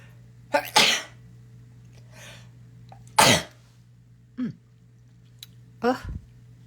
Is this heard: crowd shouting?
no